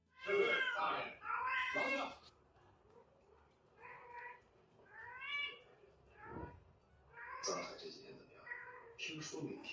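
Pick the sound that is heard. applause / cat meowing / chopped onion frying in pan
cat meowing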